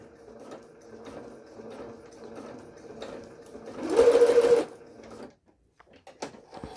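A sewing machine stitching during a tension-setting lesson, starting with soft mechanical ticking and whirring that builds into a brief, louder run of rapid stitching before stopping, followed by scattered small clicks.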